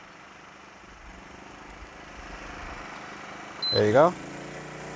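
Champion 2500W dual fuel generator running under about 1,500 watts of heater load, a steady continuous engine drone throughout, with someone speaking briefly near the end over the running engine.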